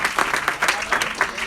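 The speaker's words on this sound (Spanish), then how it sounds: "Dele fuerte ese aplauso al Señor en esta hora." A church congregation applauds for the Lord: steady, dense clapping from many hands, swelling in rolling waves at a fairly close distance, with no voice on top.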